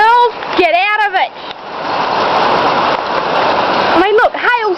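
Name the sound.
heavy rain and hail falling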